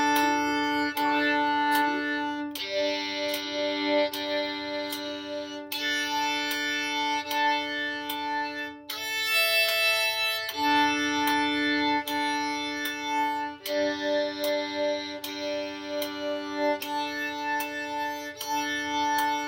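Bowed strings play double stops on open strings as steady half notes, each rich, sustained two-note chord held for a couple of seconds before the bow changes to the next pair, with no voice.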